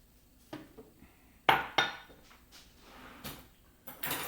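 A fork mixes thick donut batter made with olive oil and protein powder in a bowl, making a few sharp clinks and scrapes spaced irregularly, close and fairly quiet, with no talking.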